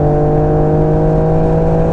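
Yamaha Tracer 900 GT motorcycle pulling hard under acceleration, a steady, loud engine drone with strong harmonic whine holding throughout, close to the rider with no talk.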